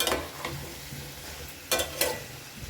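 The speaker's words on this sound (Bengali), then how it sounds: "মশলার সাথে খুব ভালো করে চিকেনটা আমি মিশিয়ে নিয়েছি" Chicken being worked through spices in a pan while cooking chicken jahangiri, with a few scraping stirs and soft sizzling, two sharper clinks of the spoon near the end, and no talk.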